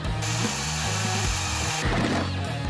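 A treadmill fitted with sandpaper sanding a guitar body, a loud continuous motorised whir with grinding friction that shifts in pitch as the wood is pressed and lifted, no talk.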